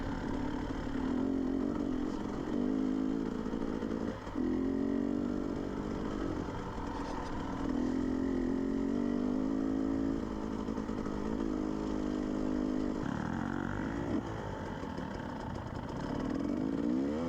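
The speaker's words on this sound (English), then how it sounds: "The crew is Jeff on his Suron, Ron on his KTM, and Mike on another KTM, and me on another KTM" KTM dirt bikes and a Surron electric dirt bike ride off-road together, a close, loud motorcycle engine revving and shifting steadily with rising and falling pitch, no talk heard.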